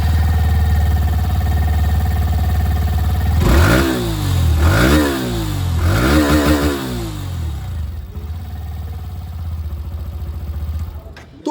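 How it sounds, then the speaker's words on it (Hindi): A Hero Glamour X 125 motorcycle idles with a steady exhaust note, then three sharp throttle revs rise and fall before it settles back to idle. The engine is loud and close, with no talk. "सबसे पहले यहाँ पर जो ग्लैमर एक्स 125 है, इसकी जो एग्जॉस्ट साउंड है ये मैं आप लोगों को यहाँ पर सुना दूँ"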